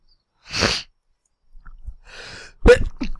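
A single sharp, close sneeze, followed by a sigh-like breath and a few breathy sounds.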